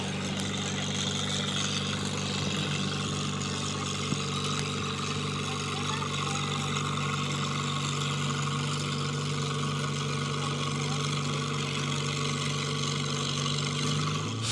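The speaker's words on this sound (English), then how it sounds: "Is that a Mexican tractor? It says on the side, Massey." A Massey tractor engine runs steadily at a barnyard tractor pull at a county fair, a constant low drone throughout with faint crowd noise mixed in.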